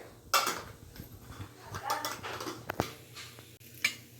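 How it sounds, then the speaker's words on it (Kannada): Cumin seeds go into a mixer jar in a home kitchen, with a few sharp clinks and light rattles of the jar and utensils amid soft handling noise. "ಜೀರಿಗೆನ ಹಾಕ್ಕೊತಿದ್ದೀನಿ ಒಂದು ಮಿಕ್ಸಿ ಜಾರ್ನಲ್ಲಿ"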